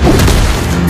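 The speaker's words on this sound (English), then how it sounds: "Your team destroyed a turret!" A turret-destroyed explosion in the Mobile Legends: Bang Bang video game hits as a loud, deep boom with a rumbling, crashing tail that fills the whole second.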